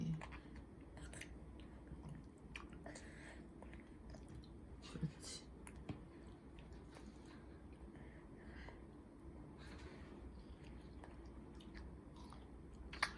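A small child eats summer plums and peaches, making soft, wet, close chewing and squishing sounds that stay quiet and irregular throughout against a faint room background.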